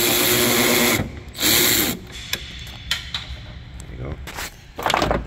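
A wrench removing bolts from the battery hold-down bar of a 2014-2019 Chevy Silverado or GMC Sierra, giving loud bursts of ratcheting and rubbing metal, then scattered clicks and knocks close by.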